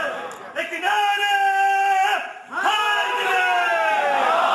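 A large crowd at a religious gathering chants a slogan back in unison, two sustained, loud collective shouts of voices in response, separated by a brief pause.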